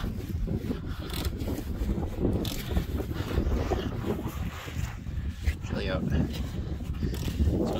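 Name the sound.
wind blowing under a car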